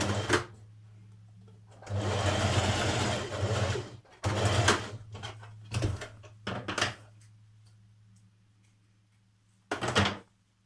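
A domestic sewing machine stitches across the top of a skirt pocket in several separate bursts, some long and some short, with quiet pauses between runs.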